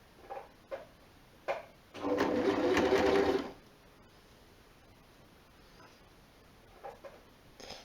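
A sewing machine runs one short burst of stitching, about a second and a half, backtacking at the start of a seam on a jersey top hem, with soft handling clicks and rustles before and after.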